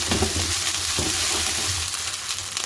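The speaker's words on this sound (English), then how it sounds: "So I'm just going to sweat these onions down and soften them." Onions sweating down in a pan for an aubergine and lentil dal: a close, busy sizzle with stirring noises over a low steady hum.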